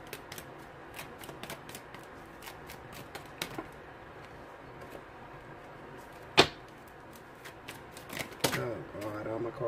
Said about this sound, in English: Cards is falling all over the place.